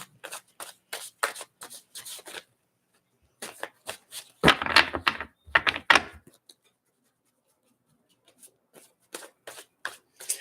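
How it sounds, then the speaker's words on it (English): Close, crisp riffling of tarot cards being shuffled in repeated bursts, with a couple of longer louder shuffles and brief pauses between. "as I'm shuffling the cards"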